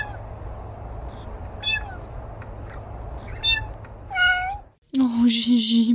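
A domestic blue jay recorded in Florida imitates a cat's meow, giving several short, nasal mewing calls over a low background hum, then a louder, longer meow-like cry at the end.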